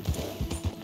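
A horse in Red Dead Redemption 2 trots along, its hooves making quick, close clip-clop beats in an even rhythm.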